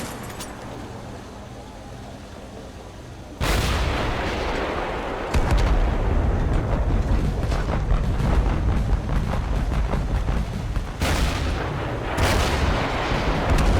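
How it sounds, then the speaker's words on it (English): An M109 155mm self-propelled howitzer fires in the video game Total Conflict: Resistance, sudden loud booms that give way to sustained rumbling roar, with a second blast later, heavy and close. "Has a 155mm self-propelled howitzer cannon and has a 50 BMG as a backup."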